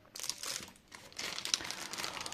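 A plastic zip bag crinkles as it is opened, two close bursts of crisp rustling in quick succession.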